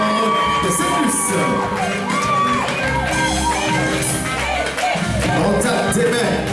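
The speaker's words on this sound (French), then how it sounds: "Vos applaudissements, s'il vous plaît, pour Kiara, notre belle matador de Saint-Luc." A carnival crowd in Guadeloupe cheers, whoops and shouts continuously, loud and lively, with mixed voices calling out over one another and a sustained background roar.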